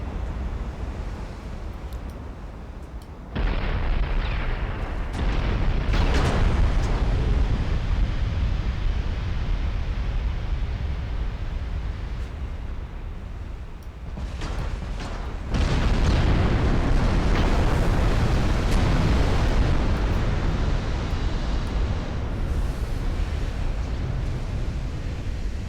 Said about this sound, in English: This is super accurate gunnery, thanks to those new radar rangefinders